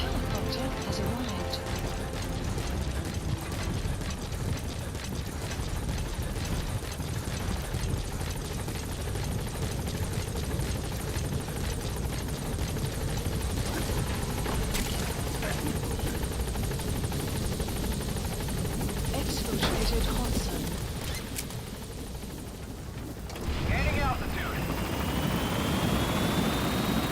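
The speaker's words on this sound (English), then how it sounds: "Support helicopter has arrived." Support helicopter in the video game Metal Gear Solid V, a steady loud rotor drone that runs throughout with a brief dip and swell near the end, with voices talking over it.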